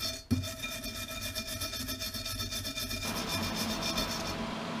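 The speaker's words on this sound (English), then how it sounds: "you're supposed to keep a separate clean wire brush just for aluminium as well." A wire brush scrubs an aluminium BSA Goldstar crankcase with a continuous rough, rasping stroke. A sharp knock comes near the start, and the scrubbing shifts in tone partway through.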